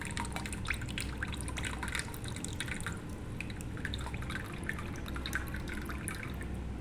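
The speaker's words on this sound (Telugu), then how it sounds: "వాటర్ ఇంకొక పాత్రలోకి బౌల్లోకి వంపేసుకుందాం." Salted water trickles and drips steadily from one bowl into another, a continuous close liquid pour with small splashes and no voices.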